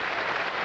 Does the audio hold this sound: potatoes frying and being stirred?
no